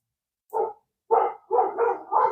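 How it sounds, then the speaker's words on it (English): A dog barks several times, one bark then a quick cluster of four, loud and close with clean silence between. "Hear my dogs barking again."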